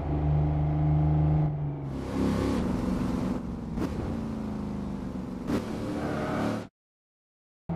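A Dodge Charger police car in Assetto Corsa revs its engine, a loud rumbling idle rising into several sharp revving surges before cutting abruptly to silence near the end.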